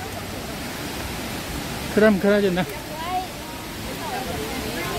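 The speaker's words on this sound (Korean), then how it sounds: "자, 여기가 프랑시 폭포입니다" The Kuang Si waterfall in Luang Prabang, Laos, gives a steady, broad rushing roar throughout, with someone briefly talking over the constant water noise midway.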